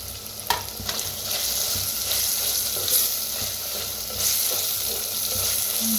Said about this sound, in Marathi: कांदा टमाटो ह्याच्यात कोथिंबीर टाकली ना आपण. आता हे चांगलं भाजायला लागले.